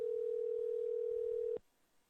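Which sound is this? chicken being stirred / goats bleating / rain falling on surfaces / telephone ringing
telephone ringing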